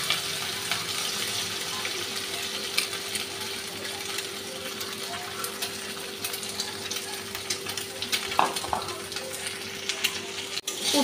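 Beaten egg goes into a pan of frying bitter gourd filling seasoned with turmeric and salt, with a continuous close sizzle and occasional scraping from stirring. No one speaks.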